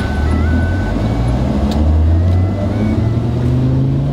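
A car pulls away at a green light, its engine a steady low drone with a gentle rise in pitch as it accelerates, the road rumble constant and close throughout with no talking.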